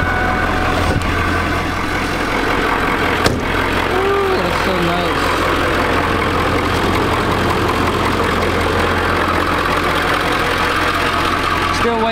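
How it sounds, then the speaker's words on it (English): A car engine idles at close range in a steady, even rumble with a faint knocking texture that continues unbroken for about twelve seconds. "Push the clutch in and we turn the key."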